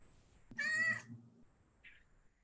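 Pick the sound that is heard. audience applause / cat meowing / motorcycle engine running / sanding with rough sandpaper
cat meowing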